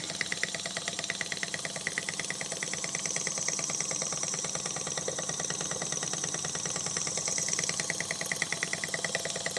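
A small single-cylinder fan engine runs steadily up close, its rapid regular ticking beat and mechanical chatter continuing evenly without interruption.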